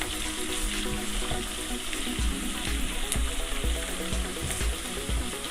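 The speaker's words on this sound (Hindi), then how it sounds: "तो मैं थोड़ा प्याज ब्राउन कर लूँ और अदरक लहसुन" Onion, ginger and garlic frying in oil for mutton keema with chana, a steady close sizzle with occasional stirring knocks, water-like hiss throughout, no speech.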